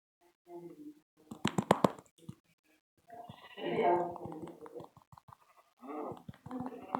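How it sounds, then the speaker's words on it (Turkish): Sheep in the Minecraft video game bleat in several short, clear cries, mixed with someone talking in between. "Ah iki koyun daha buldum."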